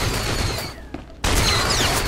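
A grenade launcher fired at point blank in Star Wars: The Old Republic, heard as one loud, sudden burst after a brief lull, set among dense, continuous gunfire and battle noise from the game.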